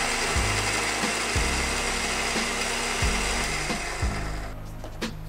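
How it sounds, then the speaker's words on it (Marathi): A mixer grinder whirs loudly and steadily, grinding vegetables for a tarkari soup, with a rhythmic pulsing roughly once a second before the motor winds down near the end. "आता हे मिक्सर भीतर घाल वाटू"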